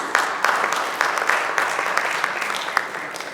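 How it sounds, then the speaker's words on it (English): An audience at a Ghana SMEs and young CEOs summit applauds technology panelists, with dense, steady clapping of many hands, close and fairly loud, slowly tapering across the clip. "A round of applause for them."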